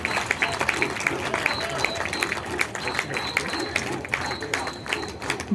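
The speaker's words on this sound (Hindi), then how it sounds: "एक बार जोरदार तालियां हो जाए इन प्रदर्शन एवं सभी जवानों के लिए" Crowd applause at a CISF drill display at a Republic Day event in a stadium, dense steady clapping close by, with voices mixed in.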